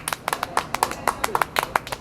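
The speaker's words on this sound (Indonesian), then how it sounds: "Tepuk tangan buat tua." Scattered hand claps from a small audience at an Indonesian talk show in Medan, North Sumatra, irregular and fairly close, over a low murmur of background noise.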